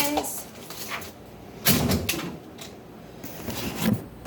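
A kitchen drawer is opened or shut during a refrigerator clean-out, giving a brief broadband clattering slide midway through, amid quieter handling noises and a person talking.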